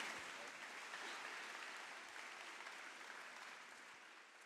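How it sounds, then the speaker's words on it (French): Steady audience applause at a university eloquence contest fills the whole stretch, dense and even, with no voices standing out. "On peut applaudir une dernière fois,"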